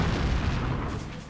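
Heavy guns of a German battleship firing a salvo during a WWII naval battle, a loud continuous low rumbling boom that fills the whole moment and slowly fades.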